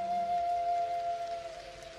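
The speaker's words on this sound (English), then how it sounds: "It's starting to rain. The raindrops are gently dancing on the exterior of your pod." Gentle rain falls on the outside of a meditation pod, a soft, steady patter running beneath a sustained calming flute tone that fades near the end.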